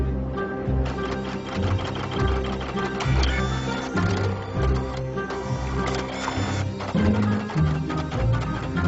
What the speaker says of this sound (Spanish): Una pieza de la impresora ha fallado